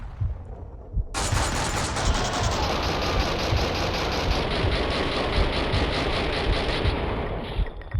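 Sustained automatic gunfire from the Max Payne 2 video game erupts after a brief lull, a dense, loud barrage of rapid shots continuing without pause to the end.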